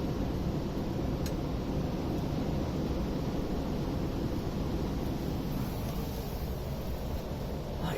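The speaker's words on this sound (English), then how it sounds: "there's an absolute massive amount of wind has turned up." Strong gale-force wind roaring continuously into the microphone on a narrowboat trip near Doncaster, a dense low rumble with steady buffeting and no speech.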